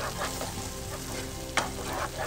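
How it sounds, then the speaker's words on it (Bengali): Vegetables with cumin powder, green chili and tomato ketchup sauté in a pan for Bengali aloo dum, giving a steady close sizzle with stirring scrapes and one sharp clack near the end. "টমেটো কেচাপটা দিয়ে আমি ভালো করে এটাকে কষিয়ে নিচ্ছি"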